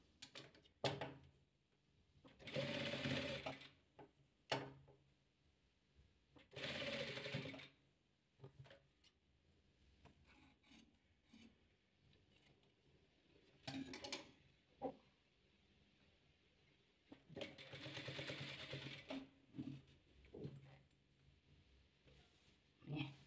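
A sewing machine stitches light blue patchwork fabric in quick bursts, its rapid mechanical whirring starting and stopping several times with quiet pauses between runs, close and clear.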